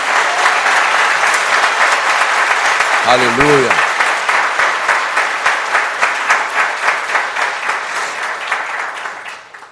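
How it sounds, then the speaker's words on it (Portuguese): A church congregation claps together during a Portuguese-language sermon. The applause is loud and sustained, and a voice calls out over it before the clapping thins into a looser rhythm toward the end. "Você pode dar um aplauso a Jesus por isso?"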